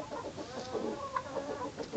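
A chick with swollen foot pads on its legs makes a run of soft, quavering peeps and faint clucks, close and quiet with no talking.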